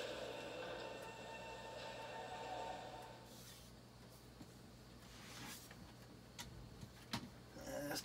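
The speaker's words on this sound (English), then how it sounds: "Okay, onto the train we go." A train ride in the Splatoon 2 Octo Expansion video game, a steady rolling rumble of rail cars at low level with occasional clanks and short bursts of noise.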